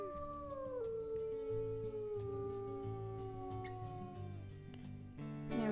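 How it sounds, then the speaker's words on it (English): Wolf howls in a wolf video game, long sliding howls from several wolves overlapping in chorus, clear and sustained against a quiet background with no talking. "let's howl for Shadow of Moon to come"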